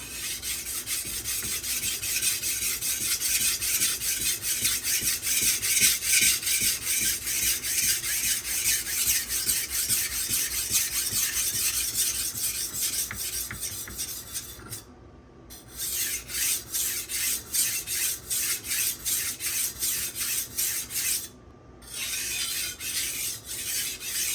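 A knife is sharpened on Bernal Cutlery Takarazukushi and Nubatama sharpening stones, giving dense, steady rasping strokes close up that run continuously and break off twice briefly.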